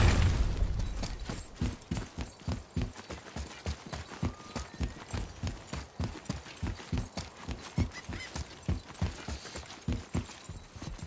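Video game horse hooves from God of War (2018) clip-clop in a steady, even rhythm at close range, a long unbroken walking gait with faint mechanical clinks.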